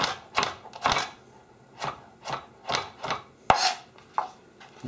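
A kitchen knife chops leeks and vegetables for soup on a cutting board, sharp wooden knocks coming in an uneven, fairly quick rhythm, close and alone without talk.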